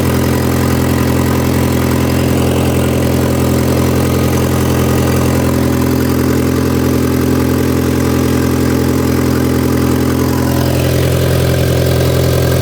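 An Audi TT engine, rebuilt after crash damage, idles steadily with a low, even hum and rumble, running on its own without talk for the whole stretch.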